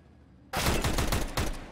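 A sudden close burst of rapid gunfire in Counter-Strike, a headshot exchange, breaking out of near silence as several quick shots ring out in a tight cluster.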